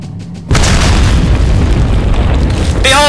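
A grenade goes off in Resident Evil 4, a sudden loud boom that bursts after a brief quiet lead-in and rumbles on with a dense, crackling tail for a few seconds.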